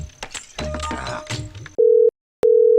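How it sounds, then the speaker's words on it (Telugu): A telephone busy signal sounds as two long, steady, loud tones separated by a short gap, following a brief stretch of voices talking. "మీరు ప్రయత్నిస్తున్న నెంబర్ చాలా బిజీగా ఉన్నది, తిరిగి మళ్ళీ కాల్ చేయండి"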